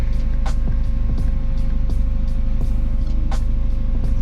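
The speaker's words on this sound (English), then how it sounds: "We're idling good, right around 750" Turbocharged B16 engine in a freshly overhauled Honda Civic idling steadily around 750 rpm, a loud, even low rumble with a regular pulsing throb and faint periodic ticks, no talking.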